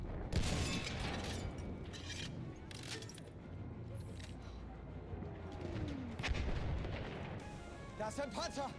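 Battlefield 1 multiplayer battle with dense gunfire and booming artillery-like blasts throughout, a continuous loud wash of combat noise with sharper bursts near the start and around the middle, while people talk over it.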